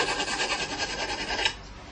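The half-round back of a small diamond file rasps against the inside curve of a knife bevel resting on wood, a steady gritty scraping in quick rhythmic strokes that stops abruptly near the end.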